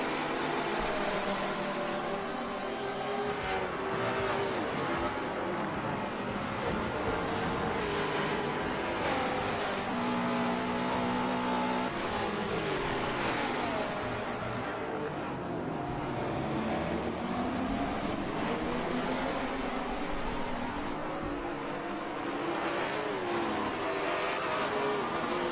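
GT4 race cars at full throttle around the Rio circuit, a dense continuous engine roar with shifting pitches as cars pass and close in, steady and loud throughout.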